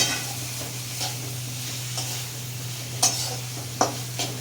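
Chicken keema sizzles steadily in a hot pan while a spatula stirs it, scraping the metal in occasional sharp strokes over the constant frying hiss, with no talk.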